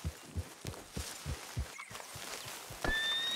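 Horse hooves and snorting in a Western video game, a series of soft, evenly spaced thuds like a walking gait, with a faint high tone entering near the end.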